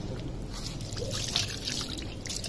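Water is poured and trickles over a freshly caught fish being cut open beside a dam, a soft, close, steady dribble.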